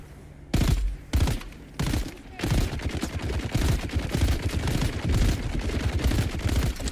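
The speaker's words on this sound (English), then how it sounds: "Machine gun man right there." Heavy machine gun fire in the survival game Dune: Awakening, opening with a few sharp separate bursts before settling into sustained, loud, close automatic fire that continues without a break to the end.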